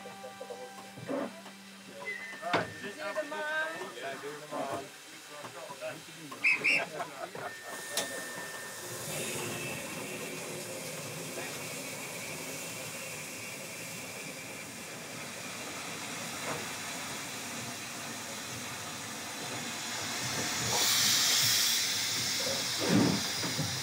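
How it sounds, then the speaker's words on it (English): The Jacobite steam train on its Scottish Highlands route gives off a long, steady hiss of steam, rising toward the end, with scattered clanks and mechanical noises early on. "Hogwarts Express is actually the Jacobite steam train, which came into service over 30 years ago"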